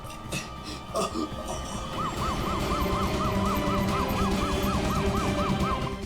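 An ambulance siren wails in a fast repeating up-and-down pattern, steady and fairly loud, over traffic noise after a brief jumble of sounds at the start.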